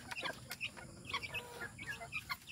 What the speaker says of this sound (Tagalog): Yan yung mga alaga nating manok